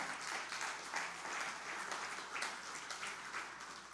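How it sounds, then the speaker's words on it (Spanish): A church congregation claps in praise during a Spanish-language sermon, a fairly faint but continuous wash of hands clapping with small swells and no voices over it. "Dele palmas al Señor, hermano."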